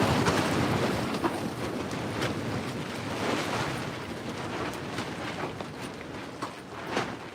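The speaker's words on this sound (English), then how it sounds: "Wow, it's windy. It's getting windy." Strong wind roars and buffets continuously, with gusty rushes and rumbling against the microphone.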